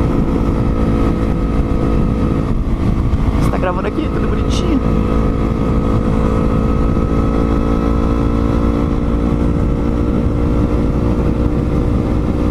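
A Yamaha MT-03 motorcycle runs with a steady, moderately loud exhaust drone. A person talks over the continuous engine rumble.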